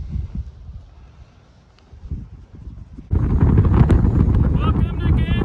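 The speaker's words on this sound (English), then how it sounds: "A little bit windy today." Wind on a Kansas day gusts hard into the microphone, rumbling low and roaring loud in the final seconds after a quieter stretch, with a voice heard faintly early on.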